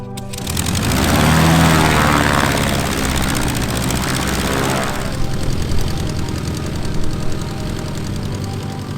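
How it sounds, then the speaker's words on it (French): A vintage propeller airplane engine, a modest hand-started engine, drones loudly and steadily with a rising then evening roar and a buzzing propeller staccato, close by with no voices. "Le staccato régulier de ces modestes moteurs"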